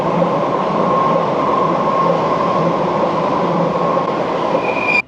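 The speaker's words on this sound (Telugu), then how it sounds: "అదిగా వచ్చింది ట్రైన్." A train runs past on a railway track in Brussels, a steady loud rumble of wheels and carriages that holds close and constant for the whole stretch before cutting off abruptly at the end, with no voices.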